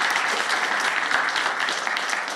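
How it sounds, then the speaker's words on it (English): Steady round of applause from an esports crowd at a Dota 2 tournament quarterfinal, dense clapping sustained throughout at an even, fairly loud level with no voices standing out. "A little bit of a round of applause for creative people."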